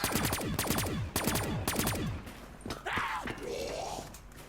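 Pack-a-Punched Anointed Avenger firing in Black Ops 3 Zombies on The Giant map: rapid, close, loud bursts of shots with ringing tails, followed by scattered other game sounds.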